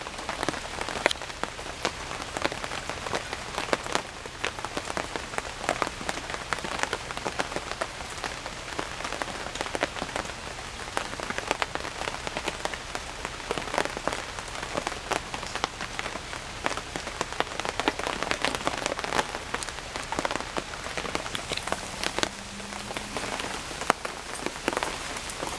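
Steady rain falls on a surface as a dense, continuous patter of close raindrops, even and unbroken throughout with no voices.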